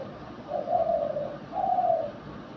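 A dove used for hunting gives two soft, drawn-out cooing calls in a row, each lasting about half a second, over a quiet outdoor background with no voices.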